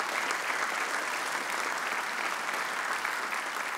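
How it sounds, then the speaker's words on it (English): A church congregation at a traditional Sunday service applauds a four-year-old instrumentalist, a thick, even roar of many hands clapping together, sustained and loud without break and with no talk over it. "Would you give her another big round of applause?"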